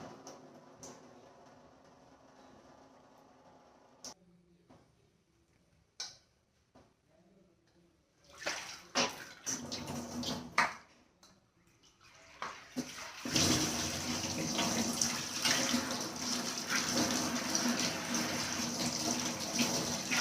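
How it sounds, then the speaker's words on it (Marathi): Moong beans are rinsed with water in a clay pot: quiet clicks and stirring at first, then sloshing and a loud, sustained rush of running water splashing into the vessel. "तर 2-3 पाण्यानं आता धुवून घेते आता चांगलं मस्तपैकी."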